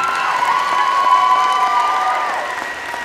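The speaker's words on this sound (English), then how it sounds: "Please give a final round of applause for each of these extraordinary young ladies." Crowd applause with some cheering for high school volleyball players at a senior recognition before a match, steady and loud throughout, tapering slightly toward the end.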